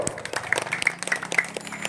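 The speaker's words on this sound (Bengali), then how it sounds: "জোরে হাততালি বড় জোরে হাততালি বড়" An audience claps at a skipping rope contest, a short burst of loose, uneven applause with scattered individual hand claps and a few high-pitched tones over it.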